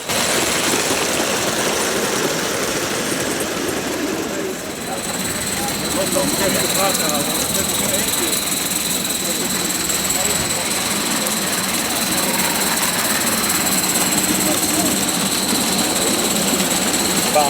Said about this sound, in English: we've got an Isle of Man 240 tank Manning locomotive, the original made by Bayer Peacock